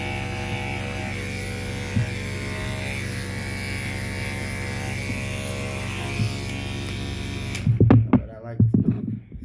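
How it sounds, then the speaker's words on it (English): Electric clippers buzzing steadily while shaving a schnauzer's coat at home, a close, continuous hum with small dips as the blade moves, then a person starts talking over it near the end. "I shave against the grain because I like to be really smooth up under here"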